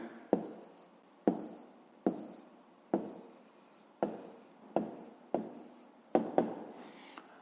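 A pen writes an answer by hand on paper during a fifth-grade maths exercise, making a series of about nine short scratching strokes in bursts, close and fairly quiet, with no talking.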